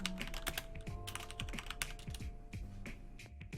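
Typing on a Vortex Pok3r mechanical keyboard fitted with PBT keycaps: a fast, uneven run of close, crisp key clicks and clacks with brief pauses, heard alone.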